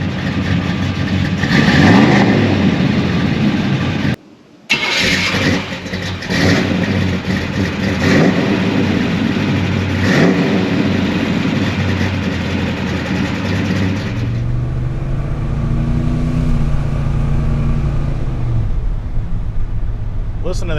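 Carbureted 1986 Chevy C10 pickup V8 starting up and rumbling at a steady idle, loud and close, a brief dropout after the first seconds before the engine settles and quiets slightly near the end, with a voice talking over it.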